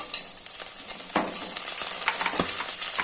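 Grated coconut roasting in a pan with dried red chillies for chutney, a continuous crackling sizzle broken by sharp stirring scrapes and taps against the pan, close and clear with no voices.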